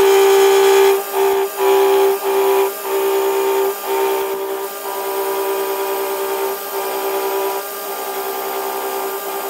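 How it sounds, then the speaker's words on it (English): A Boxford BUD lathe refaces and turns the head of a scrap stainless steel bolt, a steady high whine with a droning motor tone, interrupted by several short regular dips. "The first step is to reface the bolt, and the second step will be to turn the outside diameter of the head down to the correct size"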